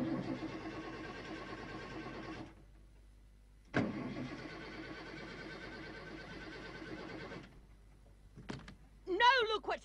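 A broken-down car's starter cranks in two long, loud grinding bursts that never catch, separated by a short pause; a brief voice follows near the end.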